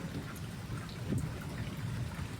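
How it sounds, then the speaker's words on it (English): Heavy torrential rain pours steadily during a violent thunderstorm in France with hurricane-force gusts, a dense wash of noise with a low rumble of thunder swelling briefly in the middle. "This time the storm came harder and deadlier, with torrential rain, hurricane-force gusts, and deadly lightning"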